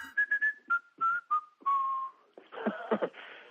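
Someone whistles a bouncy, jaunty tune alone, short clipped notes sliding downward before a longer held note and a breathy flourish.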